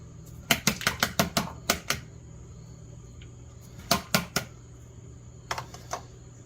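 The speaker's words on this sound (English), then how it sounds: "it's a slap chop." A Slap Chop chopping garden garlic and vegetables for marinara: rapid bursts of sharp, crisp chopping clacks come in quick clusters of about six, then pauses, repeating three times against a faint steady hum.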